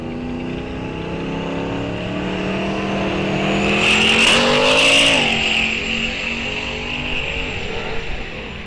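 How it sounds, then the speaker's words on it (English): Dodge diesel pickup and Nissan 240SX drag racing at Rock Falls Raceway, loud close engines revving hard with rising pitch as they launch and pass, peaking mid-run and then fading. "Dodge pickup gets the jump off the starting line, but still finishes second as the 240 SX goes 9:13 at 150 miles an hour."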